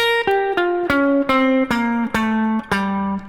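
A clean electric guitar plays a quick descending altered jazz lick of about eight plucked notes, each ringing briefly, bright and close.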